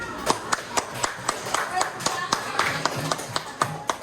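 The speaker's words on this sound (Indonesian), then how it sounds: "ya boleh tepuk tangan" Sparse clapping in a classroom coaching session, a few people clapping in a loose, uneven rhythm with sharp distinct claps, with talk and background voices underneath.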